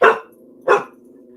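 Layla, the little dog, gives two short sharp barks or growly yaps close by, with a low sustained rumbling growl running underneath between them.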